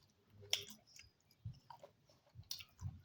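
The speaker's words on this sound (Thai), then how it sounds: "กินน้ำสาลี" Someone chews a fresh nam sali pear up close, producing soft crunchy bites and wet mastication at irregular intervals, with a few faint mouth clicks in a quiet room.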